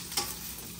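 Garlic and onion sautéing in a pan give a steady, soft sizzle, with a brief stirring scrape near the start and another at the very end.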